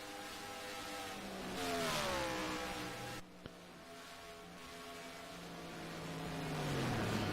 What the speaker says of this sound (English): And the Miller Lite Ford gears down